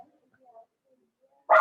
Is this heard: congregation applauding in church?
no